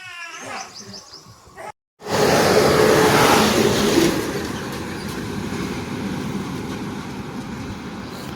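A red Maharashtra State Transport bus races past on a Konkan road. Birds chirp softly, then a sudden loud rushing roar cuts in and holds steady to the end.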